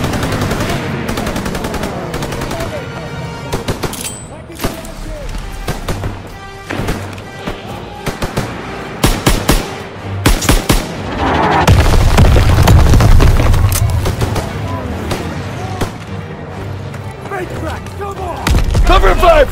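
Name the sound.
mortar strike explosions in Call of Duty WWII video game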